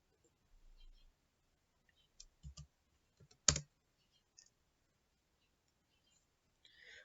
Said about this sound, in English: Now press enter on the keyboard.